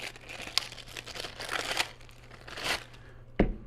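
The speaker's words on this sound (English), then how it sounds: "remove the plastic bag and rubber band" A plastic bag being pulled off the end of a CV driveshaft for a Ural motorcycle, heard as close crinkling and rustling with a sharp snap near the end, no talk.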